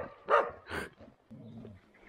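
A dog barks twice in quick succession on a walk through farmland, with short, fairly close barks followed by soft low whimpering.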